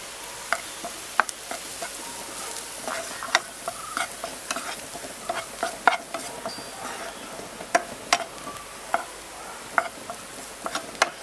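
Ingredients sauté in a pan for a tomato curry with a soft, continuous sizzle, while a utensil scrapes and taps the pan in irregular stirring strokes.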